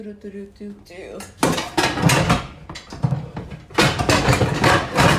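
Metal pots and skillets clatter and clank loudly as cookware is shuffled about in a kitchen while a skillet is chosen for a cabbage stir fry. A person speaks briefly near the start.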